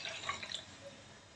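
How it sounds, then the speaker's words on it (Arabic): Water poured into a mixing bowl as the first liquid for a Spanish cake batter, a short, light trickling splash at close range, heard alone. "أول شي بنحط المواد السائلة، بنحط المي."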